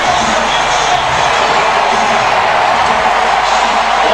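A packed stadium crowd at a Georgia vs LSU college football game in Baton Rouge roars in a loud, continuous, distant-sounding wash of cheering.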